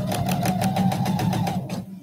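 A sewing machine stitches a seam on a quilt sampler block, a close, fast, even rhythmic whir that runs steadily for nearly two seconds and then stops.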